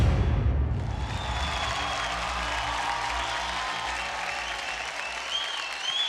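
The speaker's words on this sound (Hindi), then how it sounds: "जोरदार तालियां हो जाए guys boogie, LLB and Saumya के लिए।" A studio audience on a televised Indian dance competition bursts into loud, sustained applause, with dense clapping that swells at the start and carries on evenly to the end.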